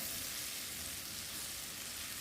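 Garlic sautéing in butter in a pan for a Jamaican-style garlic butter lobster, a soft, even sizzle heard close and steady throughout, with no talking.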